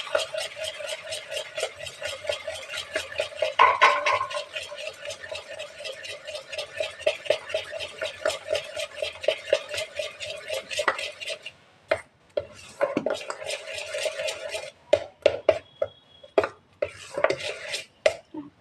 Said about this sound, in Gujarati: હવે આપણે એને સરસ રીતે ફેંટી દઈશું.